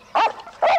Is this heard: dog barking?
yes